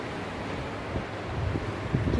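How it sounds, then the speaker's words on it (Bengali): Wind blows steadily past an open window on a cloudy day after rain, a soft continuous rushing with low buffeting gusts and no voices. "কি দারুণ হাওয়া এখানটা"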